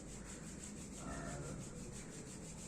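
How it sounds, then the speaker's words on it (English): Palms rubbed together briskly to warm them during a seated office chair yoga session, a steady close, soft swishing friction that continues throughout without speech. "I'm just rubbing my hands together until they become warm"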